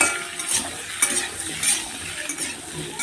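Green chillies fry in a pan with onion, potato and papaya, giving a constant close sizzle with repeated scrapes and clinks of a spoon against the pan, and no talking.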